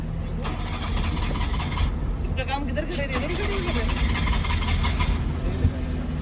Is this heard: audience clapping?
no